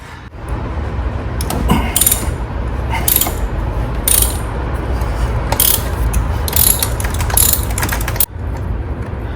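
A ratchet clicks steadily while tightening a spark plug on a 2006–2013 BMW 328i, its sharp rapid pawl bursts repeating in quick strokes over a low workshop hum, close and fairly loud, with no talking.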